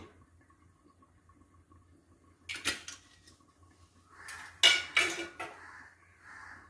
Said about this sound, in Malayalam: അതിനകത്ത് ഞാൻ ഫ്രൈ ചെയ്യാനായിട്ട് പാൻ വെച്ചു, അതിനകത്ത് വെളിച്ചെണ്ണ വയ്ക്കുന്നേ